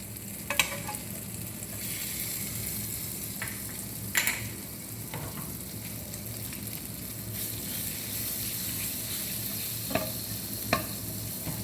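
Butter, a Nutralite spread, melts in a hot pan with a soft, steady sizzle that runs the whole time, broken by a few faint clicks and taps of a utensil.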